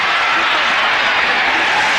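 Football stadium crowd at a 1992 Steelers vs Bears NFL game, cheering a Bears defensive stop: a dense, steady roar of cheering and applause that holds loud and unbroken throughout.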